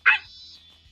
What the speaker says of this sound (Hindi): अरे ये डॉगी तो कितना प्यारा है।